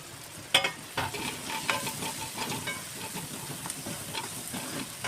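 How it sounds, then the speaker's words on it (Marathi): Red chili powder, garam masala and turmeric sauté in hot oil on a gas stove, a steady close sizzle with scraping stirs and a few sharper clinks. "हे सर्व मसाले तेलामध्ये परतून घ्यायचे."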